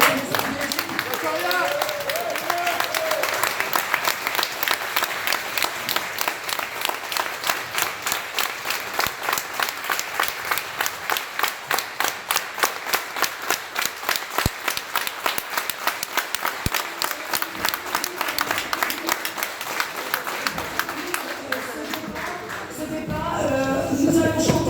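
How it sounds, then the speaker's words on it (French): A Gilets jaunes rally crowd in Hénin-Beaumont claps in a loud, sustained round of applause that settles into rhythmic unison clapping, with voices mixed in and talk resuming at the end. "Les gilets jaunes, on s'applaudit"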